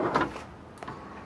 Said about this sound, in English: Nice large drawers, full extensions.